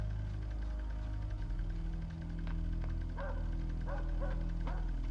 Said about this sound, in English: Dog in the park.